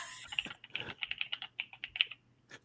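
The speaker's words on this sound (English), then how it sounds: "Back to Matt typing." Rapid, uneven clatter of keys on a computer keyboard, a burst of dozens of close, crisp taps lasting a couple of seconds, with a steady low hum beneath and no talking.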